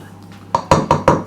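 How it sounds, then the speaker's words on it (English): A spoon clatters against a bowl while fruited tea cake batter is mixed, four quick, close knocks in rapid succession after a quiet start. "Go on, give it a mix in."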